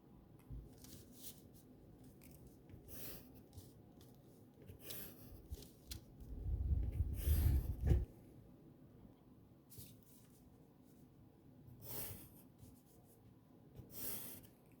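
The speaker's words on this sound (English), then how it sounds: "I'm going to draw in the lines at the end" A pen scratches and rubs across paper drawing the lines of a tree diagram, faint intermittent strokes with a longer, louder stretch of scribbling in the middle.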